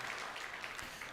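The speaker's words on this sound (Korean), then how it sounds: "먼저 그렇게 우리를 만나러 오신 우리 삼위 하나님께 영광의 박수 주십시다" A congregation applauds during a Korean church Sunday morning worship service, a faint, steady wash of many hands clapping heard from a distance for about a second.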